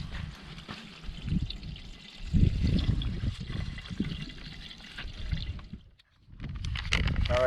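Water trickles through a siphon from a partly emptied bucket, a soft uneven gurgling and dribbling that swells and fades, quiet and close, with a short pause near the end.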